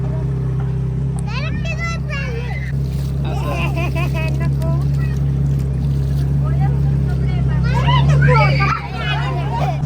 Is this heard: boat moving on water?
yes